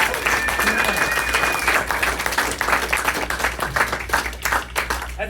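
Crowd at a live music show applauds the band, thick sustained clapping and a few cheers carrying on at a steady level for several seconds with no one speaking.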